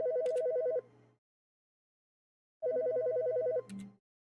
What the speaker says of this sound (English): Are the phones usually ringing?